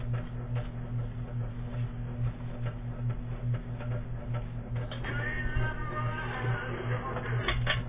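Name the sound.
Elvis Presley novelty clock ticking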